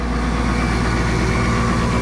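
Farm tractor engine warming up in a field before soybean seeding, a steady, loud, low diesel idle rumble throughout with no talking.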